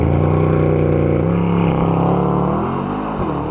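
A 2024 Mercedes-AMG S63 with 802 brake horsepower revs hard and climbs steadily in pitch as it launches under launch control and accelerates, loud and close, with brief shifts in tone.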